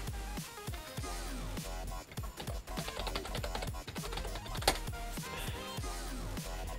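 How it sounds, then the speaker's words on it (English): An administrator password is typed on a computer keyboard, a quick irregular run of close, distinct key clicks with no speech. "Input our administrator password."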